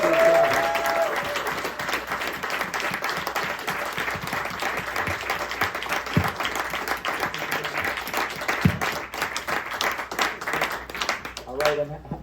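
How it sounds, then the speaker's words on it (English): An audience at a Minor Threat book talk gives a loud, sustained round of applause that continues throughout, with crowd murmur and voices mixed into the clapping before it tapers off at the end. "Let's hear a real loud round of applause for these guys."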